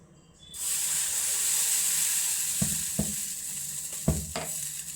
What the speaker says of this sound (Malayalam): ഇതാ മാവ് ഒഴിച്ചു കൊടുക്കാൻ പോകണേ